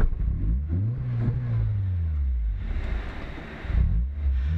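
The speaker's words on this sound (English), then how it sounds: "So I think we may have to bump start it." A Toyota AE86 engine catches after a bump start and revs, rising and falling through several throttle blips, heard close with wind noise buffeting the microphone.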